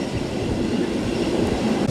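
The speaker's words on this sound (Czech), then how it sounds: "vlak stále stoupá nahoru" Steady rumble of a train climbing uphill along the track between Andermatt and St. Moritz, dense low-frequency roar with faint rattling, continuous and fairly loud, no voices.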